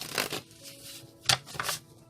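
Tarot cards are shuffled in several quick riffling bursts with brief pauses between them, close and clear with no talking.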